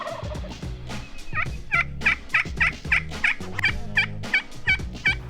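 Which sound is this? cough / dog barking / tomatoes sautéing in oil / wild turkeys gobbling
wild turkeys gobbling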